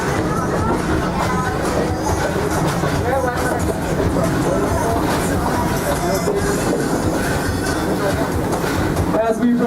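A Miami Valley Railroad excursion train at the Kings Island amusement park rolls along the track with a continuous, rumbling, clattering drone. Faint voices murmur underneath.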